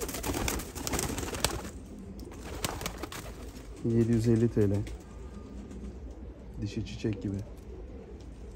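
Yellow Hungarian pigeons coo in short bursts, now and then rising clearly near the microphone, while someone talks over and between the calls.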